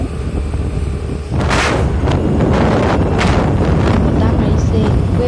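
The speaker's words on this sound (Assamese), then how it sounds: "বতাহ মাৰিছে, একোৱেই শুনি" Wind blowing outdoors beside a tea garden and forest reserve, buffeting the microphone in loud, rough gusts that swell sharply after the first second and stay heavy to the end.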